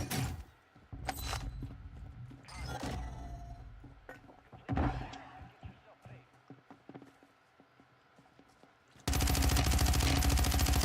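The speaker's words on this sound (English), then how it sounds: "we're still taking shots from the sniper guy" Gunfire in a shooter game from a sniper, with scattered sharp cracks and bursts amid in-game noise, then a loud steady roar at the end; a person talks over parts of it.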